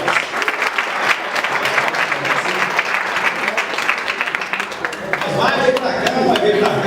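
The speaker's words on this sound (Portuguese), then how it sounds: "as palmas para ele, merece" A studio audience at a Brazilian TV show claps steadily and loudly for a guest, a dense wash of applause that continues throughout, with a host's voice rising over it near the end.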